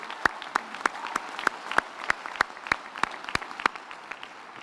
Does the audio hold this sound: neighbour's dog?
no